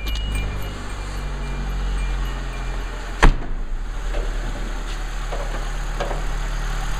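A 2000 Hyundai Accent's 1.5-litre four-cylinder engine idles with a steady low hum and faint mechanical ticking, one sharp click partway through, no voices.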